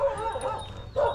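Dogs in a rural village in Sulawesi, Indonesia, including a pug, barking and whimpering close by in a short yappy burst heard alone.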